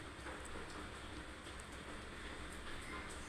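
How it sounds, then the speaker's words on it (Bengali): Pieces of hilsa fish fry in hot oil in a home kitchen, a faint, even crackling sizzle that holds steady throughout with no voices. "তো এখন আমি প্রথমে মাছগুলো ভেজে নেব।"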